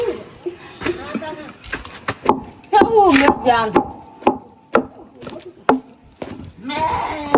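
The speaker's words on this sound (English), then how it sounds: "Pounding in progress." Fufu is pounded in a mortar in a village, with sharp, irregular wooden thuds interspersed among bleating animals and people talking.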